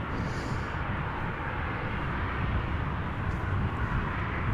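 An Embraer 190 arriving at Amsterdam Schiphol gives a steady, distant jet roar with a broad rushing engine noise that stays even throughout.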